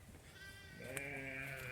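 A single drawn-out bleat rises from one of the farm sheep and holds steady for close to a second, heard fairly close over low background noise, with no speech.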